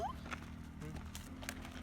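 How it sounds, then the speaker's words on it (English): Hooves of a donkey on a ranch, a few soft, irregular clip-clop steps on the ground, faint and close, heard over a low background hum. "So there's our donkey Minnie and Keke and Ray."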